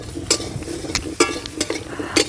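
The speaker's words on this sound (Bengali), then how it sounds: "ভালো করে ওলের সঙ্গে হলুদটা মিশিয়ে" A spoon scrapes through fried elephant foot yam and turmeric in a pan, making several quick, close scraping strokes at an irregular rhythm over a low sizzle.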